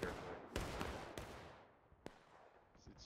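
Civil War-era artillery in the battlefield game War of Rights: a distant cannon boom rolls under steady battle din, with a few sharp reports cracking through over three seconds.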